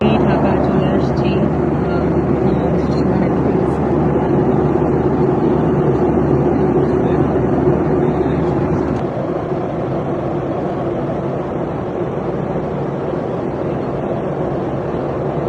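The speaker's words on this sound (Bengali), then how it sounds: "ফাইনালি আমরা হচ্ছে এখন ল্যান্ড করব, ঢাকাতে চলে আসছি।" Steady low roar of an airplane cabin during descent toward Dhaka, a constant engine and airflow drone filling the space, dropping slightly in level partway through.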